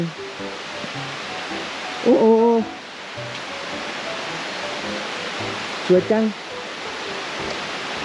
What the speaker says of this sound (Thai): โอ้มันมีน้ำตกตรงนู้นด้วยนะ ทุกคนมันเป็นน้ำตกด้วย